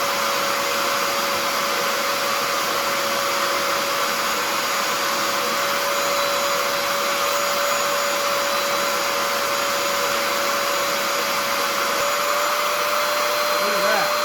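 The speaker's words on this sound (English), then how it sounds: "you're going to press down and it's going to vacuum the liquid out" A loud, steady motor whine of a Bissell Little Green Pro portable carpet cleaner sucking up liquid from cloth car seats, running continuously with a constant pitch, very close.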